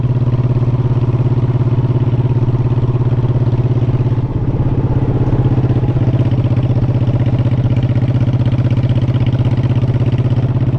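Motorcycle engines riding through a canyon, a steady loud mid-range drone that holds a constant rumble throughout with a slight shift near the middle, close and continuous with no talking.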